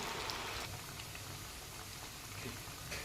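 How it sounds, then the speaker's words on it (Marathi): Sabudana vadas fry in hot oil with a steady, close bubbling sizzle, a continuous crackling hiss all the way through. "त्यांना तळून येऊ द्यायचं वरती मस्त असं वरती येतात फुगून"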